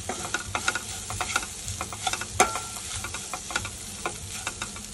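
Grated beetroot fries in a pan as coriander powder is stirred in, with repeated scraping strokes of the spoon over a steady sizzle, close and fairly loud.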